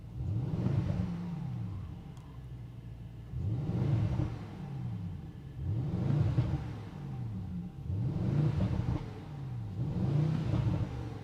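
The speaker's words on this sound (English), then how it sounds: "Whoa, V8 AMG Symphony" Mercedes-AMG V8 in Sport Plus mode revving hard in five loud, regular bursts, each a rising then falling engine roar with a rumbling idle in between, heard up close with no one talking.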